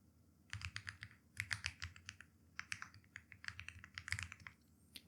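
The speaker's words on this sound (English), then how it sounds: "Type your email address here again that you have used to create the channel." Quick, uneven clicks of fingers typing an email address on a computer keyboard, close and fairly quiet, arriving in short bursts with brief pauses and a soft low hum beneath.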